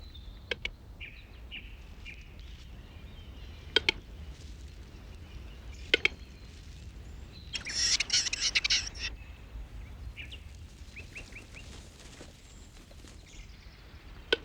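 Scattered chirps and short bird calls ring out in a Vosges forest in spring, some near and some distant, with a denser burst of high twittering partway through over a low outdoor rumble.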